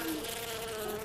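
Bees buzz loudly and close by in Far Cry 4, a continuous insect drone that fills the whole moment with no talk.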